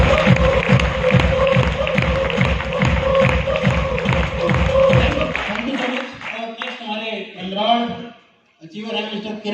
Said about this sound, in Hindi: तो ये एक बार जोरदार ताली है पवन जी के लिए